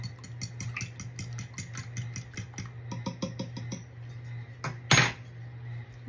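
Two eggs whisked in a bowl for a summer squash casserole, giving a quick, steady run of clinking taps that pause briefly and end in a sharper clatter, heard close over a low steady hum.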